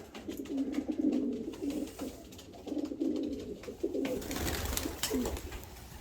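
Young pigeons coo in a low, repeated burbling rhythm inside a breeding loft. The calls are close and moderately loud, coming in several bursts over a soft background.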